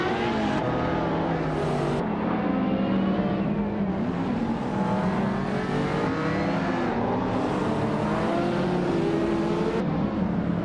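Race cars roaring along in a close pack and overtaking one another during a race, engines whining and shifting pitch continuously with no gaps, loud and near.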